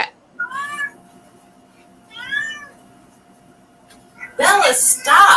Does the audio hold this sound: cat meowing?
yes